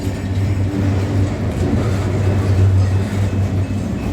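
A freight train hauling a few old rusty wagons rolls down Baxter Hill near Hastings, Victoria, Australia, producing a steady, close, heavy rumble with a low droning hum and no voices.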